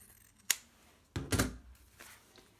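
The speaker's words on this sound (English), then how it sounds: "So I am going to trim that up just a little bit and make it even." Scissors trim the fabric edge of a sewn cloth menstrual pad: a few quiet, close snips, one sharp cut and then a longer slicing cut, in an otherwise quiet room.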